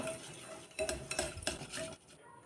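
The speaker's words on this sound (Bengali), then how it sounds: "একটা ডিম ফেটিয়ে দেবো" An egg is beaten with sugar in a bowl, giving quick clinking whisk or spoon strokes against the dish over about a second, close and fairly quiet, then fading out.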